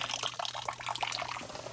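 Glycol drips and trickles from a shortened baseboard heater, a faint, quick patter of small liquid splashes that carries on steadily without a break.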